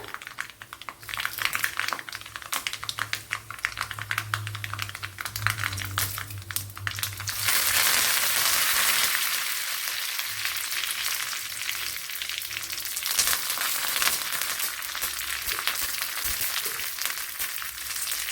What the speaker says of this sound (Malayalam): അതിലേക്ക് കടുക് ഇട്ട് കൊടുത്തിട്ടുണ്ട് ഇനി വറ്റൽമുളക് ഇട്ട് കൊടുക്കാം ഇതിലേക്ക് ഇനി കറി ലീവ്സ് കൂടെ ഇട്ട് കൊടുക്കാം